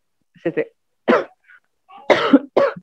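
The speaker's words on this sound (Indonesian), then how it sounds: "Saya batuk." A handful of short, close coughs separated by brief pauses.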